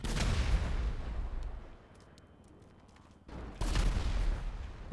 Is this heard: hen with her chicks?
no